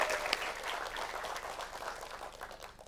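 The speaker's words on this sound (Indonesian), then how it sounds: "Tepuk tangan buat Anda sekalian." Audience applause at a motivational religious gathering, a steady wash of many hands clapping at moderate level, fading slightly toward the end with no talking over it.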